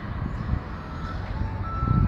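Traffic rumbles past a highway duplication construction site in Petrolina, a continuous low vehicle drone with a truck's reversing beeps in the background.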